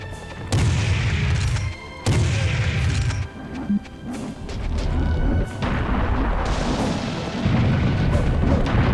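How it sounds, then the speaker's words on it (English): Massive serious bomb blasts in the Serious Sam HD shooter game, several heavy booming explosions with crashing debris and deep rumbling tails, loud and close. "another serious bomb"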